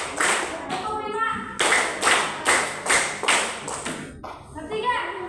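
Five sharp, evenly spaced hand claps from a class doing a clapping exercise, loud and close, preceded by a softer scatter of claps and shuffling.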